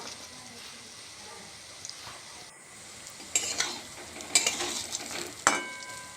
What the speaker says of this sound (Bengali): এইবারে আমি কোপ্তাগুলো এক এক করে ভেজে নেব